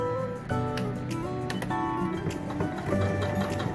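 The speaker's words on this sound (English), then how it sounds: "let's go ahead and get started with the sewing together" A sewing machine whirs and clatters in a quick mechanical rhythm, running steadily at close range with brief pauses and tonal hums.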